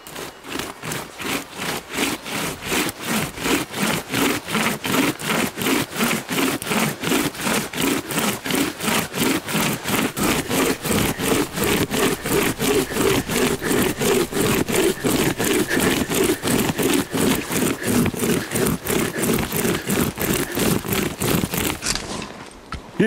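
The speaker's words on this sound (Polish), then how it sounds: "Przyznam, że ja tą piłą będę w tej chwili ciął po raz pierwszy." Badger Outdoor Army hand saw cutting through a thick piece of wood, a loud, steady rhythm of rasping back-and-forth strokes repeating for about twenty seconds, close and alone.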